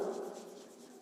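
Writing on a board in a school English class makes a faint, continuous scratchy rubbing stroke lasting about a second, with no voices.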